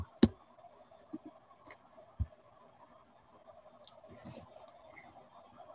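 A computer mouse clicks a few times, sparse and fairly soft, with isolated sharp clicks spread over several quiet seconds and faint room noise between them. There is no speech.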